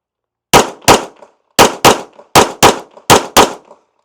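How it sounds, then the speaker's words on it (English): Eight handgun shots fired in quick pairs, loud and sharp, each crack followed by a brief ringing decay, with short pauses between the pairs and no talking. "I'm going to start shooting."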